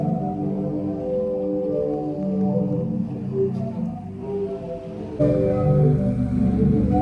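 Low, breathy organ-like tones from a sea organ played by waves on the shore in Zadar, Croatia, swell and shift continuously, layered sustained pitches rising and falling like wind through pipes, with a slight jump in loudness near the end.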